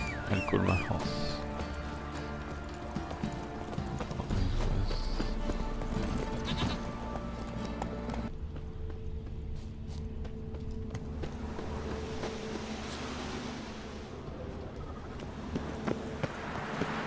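Hooves of a horse galloping in The Witcher 3 video game, a steady rhythmic clip-clop running under game music and ambience throughout.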